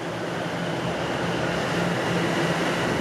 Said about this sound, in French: Ok, Giroud, arrête le métro!